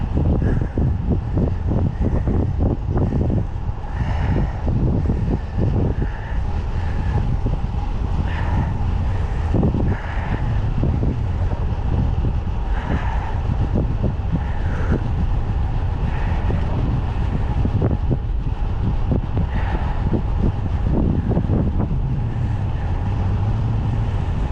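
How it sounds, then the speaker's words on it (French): Strong headwind roaring across the microphone while riding a bicycle, a loud continuous buffeting rumble with gusty bursts throughout, no voice heard. "je sais pas si vous m'entendez beaucoup avec le vent de face. Il y a un petit vent quand même quand je roule."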